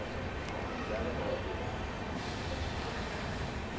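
An Amrit Bharat Express train runs through Etawah Junction without stopping, a steady broadband rumble and rattle of wheels on track heard from inside the train at moderate level, with faint talk in the background.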